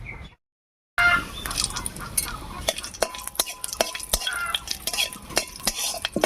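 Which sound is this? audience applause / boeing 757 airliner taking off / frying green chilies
frying green chilies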